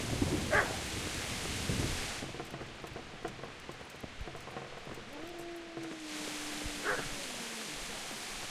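A dog barking in Kingdom Come: Deliverance over a steady rain-like wash of ambient noise, a few short barks near the start and end with a faint whining tone between, moderately distant.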